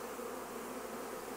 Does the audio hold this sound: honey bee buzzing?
yes